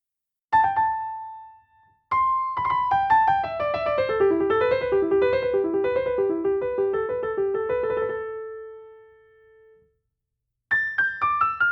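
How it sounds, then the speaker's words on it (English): Solo piano plays the opening bars of a piece: a held note, a short pause, then a clear descending melodic line with chords that fades out before a few new notes begin. "my performance of these opening bars on a piano would sound like this."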